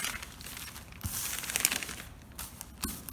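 A large sheet of paper is folded into four, giving close, crisp crinkling and rustling with a few sharper creases and handling noises.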